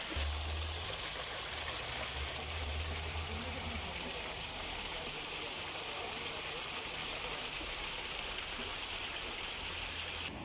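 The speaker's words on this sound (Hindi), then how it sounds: "आबशार की सूरत में बहकर आ रहा है और काफ़ी ठंडा पानी है" Cold mountain water pours down like a waterfall into a stream where tables and beds sit in the water, a steady, close, broadband rush that holds unbroken throughout with no voices.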